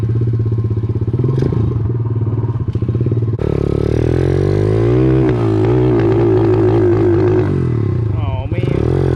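A pit bike motorcycle engine runs loud and close, idling roughly before revving up and holding a strained, clattering high pitch, then dropping back, with a voice briefly audible near the end.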